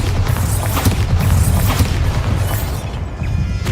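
A Bombarda blast spell in the video game Hogwarts Legacy, a loud, dense rumbling boom that fills the whole stretch with a sustained low roar and crackling debris.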